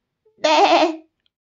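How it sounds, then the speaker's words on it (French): A cartoon goat on a farm bleats once, a short, loud, wavering call standing alone with no talk around it. "Le papa bouc est avec son petit chevreau"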